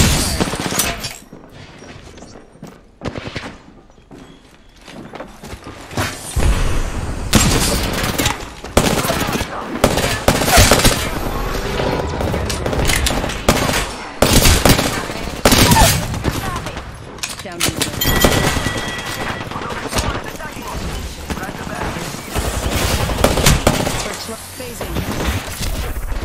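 Rapid gunfire in a shooter video game, with bursts of automatic shots and loud crashing hits that start sparse and quiet, then grow dense and loud for most of the stretch, with voice lines mixed in.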